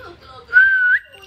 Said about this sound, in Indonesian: Coba mama bersiul.